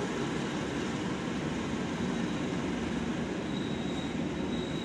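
Argo Cirebon passenger train running through Jatinegara station without stopping, a steady broad rumble of wheels and cars held at an even level throughout, with a faint high whine near the end.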